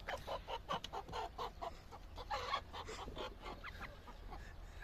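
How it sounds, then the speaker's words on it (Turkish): Rooster clucking nearby in a series of short, fairly faint clucks and throaty calls, spaced irregularly over a few seconds with quiet background noise. "Horoz Bey."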